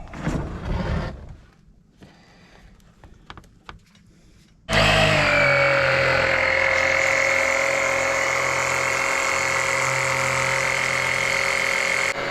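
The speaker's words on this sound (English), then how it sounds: "The pump is going." Small oil extraction pump drawing out oil, starting abruptly after a few seconds of quiet knocking and handling, then running as a loud, steady mechanical hum and whine with no talk.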